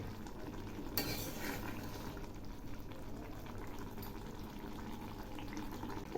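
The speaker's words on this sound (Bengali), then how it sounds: "এগুলি আবার একটু নেড়ে দিচ্ছি দেখুন একদম মাখা হয়ে যাবে" Ridge gourd and shrimp curry stirred in a pan, a soft continuous bubbling sizzle with the scrape of a spoon starting sharply, then steady stirring that stays fairly quiet and close.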